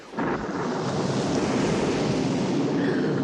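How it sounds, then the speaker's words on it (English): A huge wave crashes against a shipwreck, surging in as a loud, dense roar that swells in fast and holds steady, broad and wind-blown, with no voices. "a huge wave washed against the wreck"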